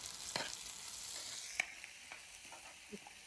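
Green chillies frying in a pan while being stirred and mixed, giving a steady broadband sizzle with scattered spoon scrapes and clicks, one sharp tap near the middle.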